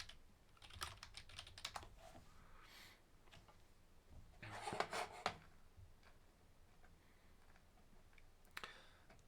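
Typing on a computer keyboard while building an infographic in Google Slides, faint clusters of quick key clicks in short bursts with pauses, no talk.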